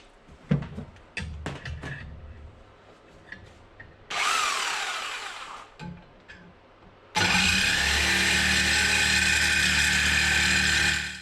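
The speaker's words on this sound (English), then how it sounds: "Essentially it's going to be chain drilled out and then filed to shape anyway" A power drill whines through a metal throttle body adapter plate while chain drilling, in two sustained bursts, a shorter one then a longer, louder grind, with scattered clanks and handling noises before.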